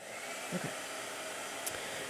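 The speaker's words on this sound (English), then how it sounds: "Blow dryer." A blow dryer drying a painting on canvas gives a steady, fairly quiet whooshing hum throughout, with a couple of faint brief knocks and no talking.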